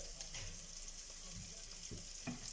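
Onions caramelising in a pan give a steady, soft sizzle and crackle, with a few faint scrapes of stirring near the end.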